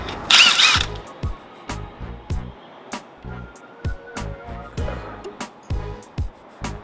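Ratchet clicking in short repeated bursts while loosening the brake caliper bolts on a 2011 Toyota Corolla front brake job, close and fairly loud, with a brief hiss near the start.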